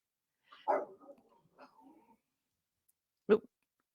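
A couple of short puppy barks or yips, one burst early with a whimpery tail and a single sharp bark near the end, with quiet gaps between.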